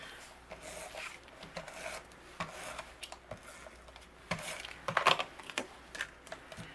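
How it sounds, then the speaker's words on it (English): A tape runner rolls adhesive onto a cardstock panel for a handmade card front, giving a series of light, dry clicks and short scratchy rubs in an irregular rhythm, close and fairly quiet, with no voices. "we're going to layer this just on the front of our card base, just using a tape runner."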